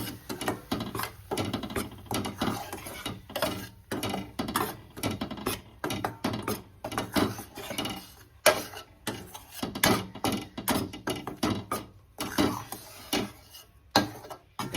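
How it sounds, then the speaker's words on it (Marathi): Wheat flour roasting in a pan for upma, stirred with a spoon in a steady series of rhythmic scraping and clinking strokes against the metal, close and moderately loud with no talking. "आणि आता हे पीठ घालायचं, छान भाजून घ्यायचं."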